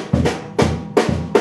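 Percussion plays a 3 against 4 polyrhythm: sharp, evenly spaced hits with a lower thump layered under them, dry and close with no speech.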